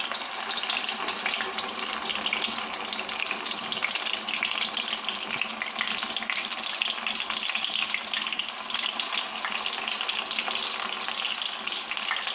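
Fish frying in a well-filled kadhai, giving a loud, dense and continuous sizzle with a steady crackling hiss that stays even throughout.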